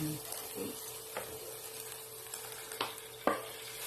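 Soaked pork sautéing in an oily pan for a fiesta-style menudo, a low steady sizzle broken by a few sharp scrapes and clinks of stirring, close by.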